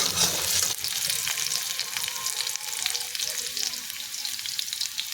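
Potatoes fry in a pan of oil while a mustard-based Bengali dish is being cooked, giving a continuous close sizzle with occasional stirring scrapes and no talking.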